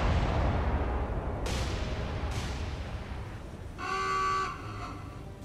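Naval gunfire in the War on the Sea Pacific war game: two sharp booming shots about a second apart over a constant rumbling background, followed by a brief buzzing burst.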